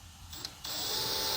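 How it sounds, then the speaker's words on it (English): A power drill bores a hole through a car hood on an R33, starting with a short faint whir and a brief catch, then settling into a loud, steady high-pitched grinding whine that holds to the end. "Drill a hole."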